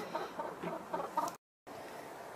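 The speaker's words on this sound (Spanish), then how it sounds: "Gallina nueva. Y el gallinero revolucionado." Hens clucking in a henhouse stirred up by a new hen, a run of close, repeated clucks and chatter that cuts off abruptly into silence before a quieter background returns.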